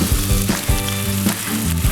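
Garlic and ginger hit a hot pan and sizzle loudly and steadily up close, with a few stirring pulses. A sustained tonal layer runs underneath, and no one talks.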